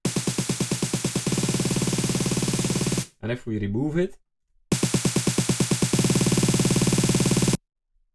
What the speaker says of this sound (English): I use a vocoder on the build-up, and what does this vocoder do? It actually adds a bit of white noise to the build.